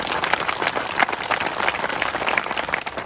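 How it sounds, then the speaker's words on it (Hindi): At an Ahir Regiment maha panchayat gathering in Kailashpur, a crowd claps loudly and unevenly, a close, busy patter of many hands through the whole stretch. "मैं तालियां बजा दो एक बार"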